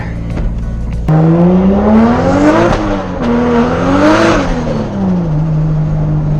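A single eBay turbo 550hp Toyota Supra on 285 drag radials pulls hard, its exhaust rising in pitch through repeated revs and shifts, loud and close, with a brief burst before the engine note settles into a steady drone.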